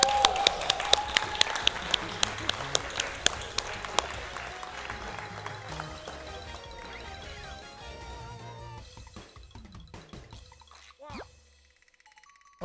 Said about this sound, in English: can we get another round of applause for the audience?